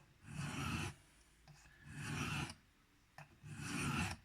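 Spyderco Byrd Robin 2 knife edge ground freehand on diamond sharpening stones, three long, even rasping strokes separated by short pauses with small clicks, close and fairly quiet.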